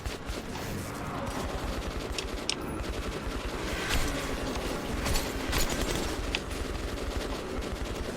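Sustained automatic gunfire from military-grade ammunition in the video game Metro 2033, a dense rattling burst of rapid shots running steadily throughout with a few louder cracks, heard alone without talk.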